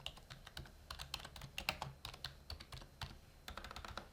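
Quick, uneven keystrokes on a computer keyboard as text is typed into a Word 2010 document, close and fairly quiet, with no voices.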